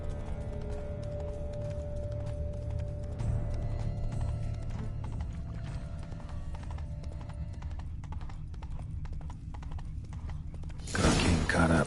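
Horses in The Witcher 3 video game, with steady clip-clop of hooves and occasional whinnying under a game soundtrack, ending in a louder burst of noise.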